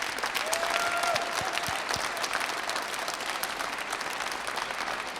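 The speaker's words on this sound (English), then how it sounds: "So let's give ourselves a round of applause." Crowd at a recovery advocacy day rally at a state capitol applauding, dense sustained clapping with a few whoops and a brief whistle-like tone near the start, no speech over it.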